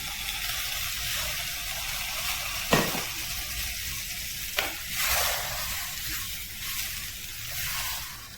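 Fish curry cooked with tamarind water is stirred in a pan, giving a steady close sizzle and a wet frying hiss, with a couple of sharp scrapes of the spoon against the pan.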